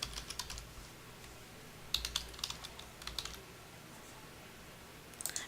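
Someone types on a computer keyboard in short bursts of soft, quick key clicks, nearby and fairly quiet, separated by pauses over a faint room hum.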